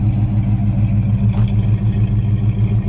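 A 1973 AMC AMX engine idles with a deep, throaty rumble through its dual exhaust, steady and close, with slight pulsing in the low end.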